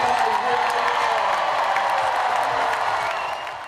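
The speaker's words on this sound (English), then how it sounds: "A roaring applause served as an electric greeting as Serena Williams took the court for one last time in the Tri-State at the Western and Southern Open." A roaring crowd at the Western and Southern Open tennis tournament greets Serena Williams as she takes the court, with dense, sustained cheering and applause that fills the whole stretch and eases slightly toward the end.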